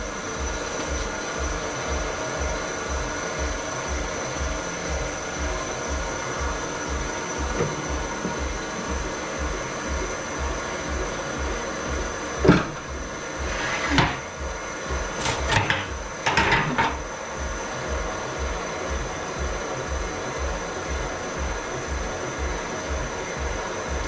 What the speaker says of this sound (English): So this is just winding the wheel closer to the crankshaft.